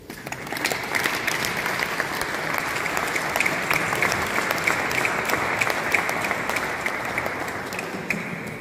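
Mourners at the funeral of Papa Oscar Kaleta Kayembe applaud together in a steady, dense burst of clapping that holds at an even, fairly loud level for the whole stretch, with no talk over it.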